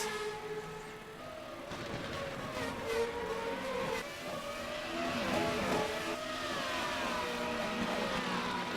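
Formula Renault single-seaters racing for the lead at a Portuguese circuit, engines screaming and shifting pitch as cars pass, several overlapping whines rising and falling continuously with no speech.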